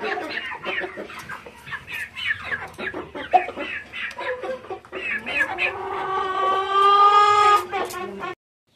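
Indian game chickens cluck and call up close, a busy run of short clucks followed by a longer, drawn-out crowing call, with a person talking faintly in between.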